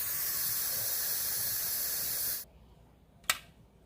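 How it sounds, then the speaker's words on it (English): An Instant Pot vents its remaining pressure as a loud, steady steam hiss that stops abruptly, followed by a short, sharp puff or click after a brief pause. "we will go ahead and release any pressure that remains in our Instant Pot"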